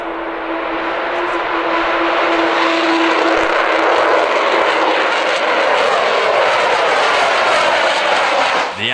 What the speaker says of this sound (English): The Avro Vulcan jet gives off a chilling howl, fitting considering it was built to drop bombs.